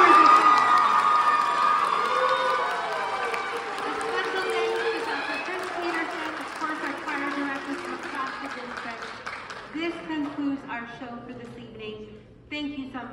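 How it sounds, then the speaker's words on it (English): A crowd at a high school district honor choir concert cheers and applauds after the performance, loud and dense at first with whoops and shouts, then gradually thinning into scattered claps and voices. "applause for all of our performers."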